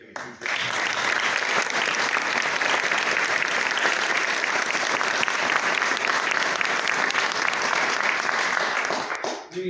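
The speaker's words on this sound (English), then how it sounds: "applause" Sustained applause from an audience at a city swearing-in ceremony for an interim Commissioner of Public Safety in Minneapolis, a dense steady wash of clapping that fills the whole stretch before fading at the end.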